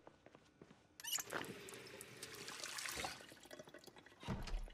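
A character drinking water in Project Zomboid, a soft watery gulping and pouring sound that swells after a quiet start and continues for a few seconds.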